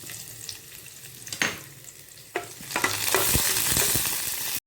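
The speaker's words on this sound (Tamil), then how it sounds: "இப்போ எண்ணெய் சூடாகிடுச்சு அது கூட பொடியாக கட் பண்ணி வச்சா பூண்டு சேர்த்துக்கலாம்" Chopped garlic hits hot oil in a kadai, bursting into a loud sizzle that builds and holds as steady frying, with a few stirring scrapes near the end.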